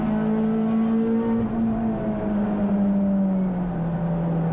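Touring race cars at Brands Hatch in wet conditions sweep past near Graham Hill Bend, a loud continuous engine roar whose pitch slides downward as they pass.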